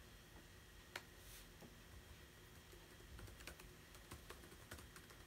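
Someone types on a computer keyboard, a quiet run of irregular clicks and taps with a few sharper key strikes over faint room noise, with no voices.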